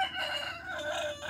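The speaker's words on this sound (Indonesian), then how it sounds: "Ini ada satu lagi ayam" A long-tailed rooster crows once in a single drawn-out call, close and fairly clear, with no talking over it.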